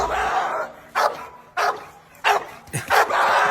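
A dog barks in several sharp, loud bursts spaced about half a second to a second apart, close by, with a low background hum and some voice-like sounds between barks.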